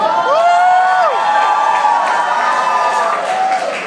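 Award ceremony crowd cheering and whooping with applause mixed in. Several gliding shouted voices stand out early, then a sustained loud crowd roar continues throughout.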